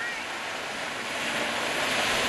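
Ocean waves wash steadily onto a beach in a continuous broad surf roar with some wind across the microphone, loud and close, no talk.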